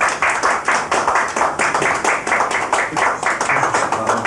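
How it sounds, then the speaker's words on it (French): American military personnel applaud, a dense, steady clapping from a group of people that fills the whole stretch at close range with no speech over it. "Les Américains applaudissent"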